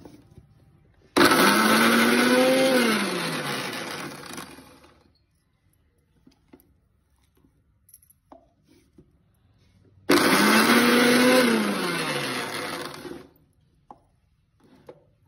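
A kitchen blender grinds shallots and gooseberries in two loud bursts of whirring motor noise, each about three seconds long. Each burst winds down, and there are quiet gaps with faint clicks between them.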